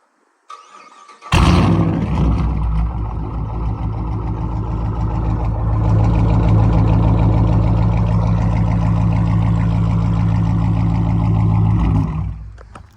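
Startup of a Dodge Charger or Challenger with a straight-pipe exhaust, recorded outside: a starter crank, a loud bark as the engine catches, then a deep, rumbling idle held for about ten seconds before cutting off.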